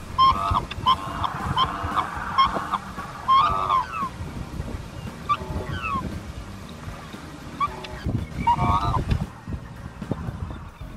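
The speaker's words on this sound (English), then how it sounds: "the call of a pair of swans is very melodic" A pair of black swans trade melodic, horn-like calls in repeated bouts, fairly near, over a low rumbling background of water and wind.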